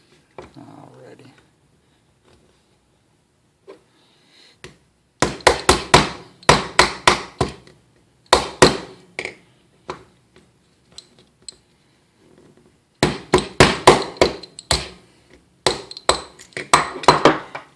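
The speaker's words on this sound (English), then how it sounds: "The next thing what I do is I pop out the pins here." Sharp metallic taps from a small hammer driving out the pins of a Ruger LCP .380 pistol's polymer frame, arriving in two rapid bursts of repeated close strikes with pauses and faint low talk between them.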